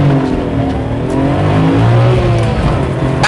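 A Nissan Skyline R34 GT-R engine pulls hard under acceleration, its loud, steady roar climbing through the revs for a few seconds with no one talking.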